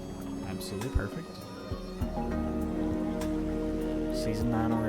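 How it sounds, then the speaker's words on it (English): Steady rain begins pattering on surfaces in the post-apocalyptic city-building game Endzone A World Apart, a soft continuous hiss layered over ambient game music and occasional tones. "Now it's going to start raining."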